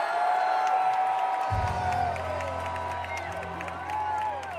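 A packed arena crowd at a Trump rally in Madison Square Garden roars, cheers and whoops in a continuous wash, with music thumping underneath from partway through.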